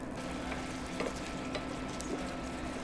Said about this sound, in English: You want to stir it around for about a minute. This is going to bloom the spices.